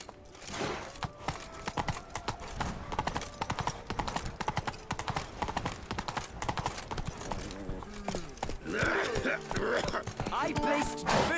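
Horse hooves clip-clopping at a steady gallop in The Witcher 3: Blood and Wine, a continuous rhythmic patter under game music and occasional voices.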